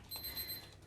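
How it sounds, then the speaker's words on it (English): Oven timer alarm going off while shortbread bakes: a faint, high, rapid electronic beeping pattern lasting under a second, alone in a quiet kitchen. "now that is our alarm for our shortbread."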